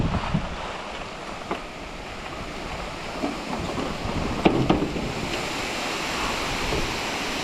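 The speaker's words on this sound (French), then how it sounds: "Bon voilà, petite cascade." A small waterfall rushes in a continuous broad roar, heard up close outdoors during an electric mountain bike ride, with some gusty wind buffeting the microphone and a few brief knocks, and no talk.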